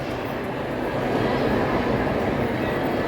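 A tram pulls in with a steady low rumble and rail noise that swells slightly partway through, close by and continuous, with no talking over it.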